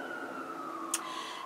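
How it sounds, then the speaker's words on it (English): A steady emergency vehicle siren tone drifting slightly in pitch, heard from a distance under a constant background hum. "Pardon the sirens, sorry about that."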